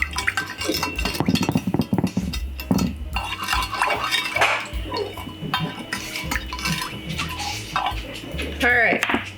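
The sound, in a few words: stirring citric acid into water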